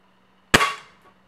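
A Gamo Bone Collector .177 air rifle fires one sharp, loud shot indoors, a crisp crack followed by a short ringing decay, alone with no talking.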